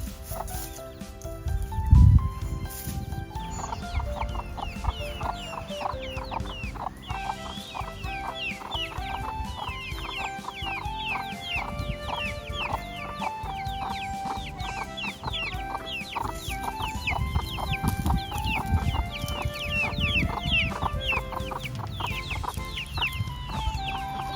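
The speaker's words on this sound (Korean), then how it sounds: "오늘은 닭이 계란을 11개를 낳았습니다" Several chickens, hens with chicks, cluck and chirp continuously nearby on a farm, a busy overlapping chorus of short calls with one louder thump early on and no talking.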